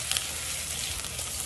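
Garlic fries in a pan of rendered fat while being stirred, a steady broadband sizzle running throughout with a few small spatters near the start, close and fairly loud, with no voices.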